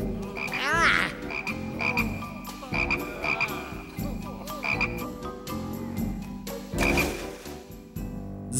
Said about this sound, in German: Du, vertreib diese Frösche.